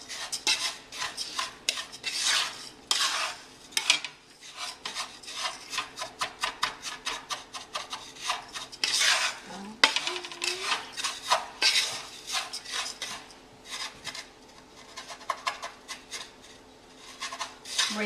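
Gujia filling ingredients are stirred and mixed in a bowl, giving repeated scraping, rubbing strokes in an uneven rhythm that carry on steadily and up close with no talking.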